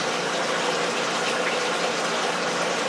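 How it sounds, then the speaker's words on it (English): Water sprays steadily onto greenhouse plants, including orchids such as cymbidium and dendrobium nobile, with a continuous close hiss and gush that stays even and unbroken. "And I'm going to give them a good watering."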